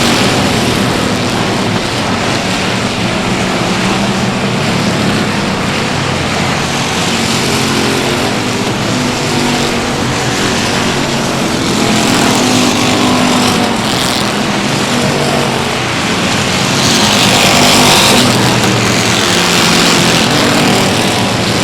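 Race cars roaring around the South Texas Speedway oval, a dense, continuous engine drone that swells and fades as the pack passes, loud throughout with no pauses.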